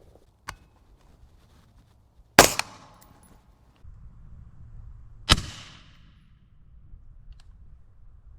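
A suppressed AR-15 fires 5.56 rounds into 5 lb bags of flour: a faint early report, then two loud sharp cracks a few seconds apart, each with a short ringing tail, in otherwise quiet surroundings.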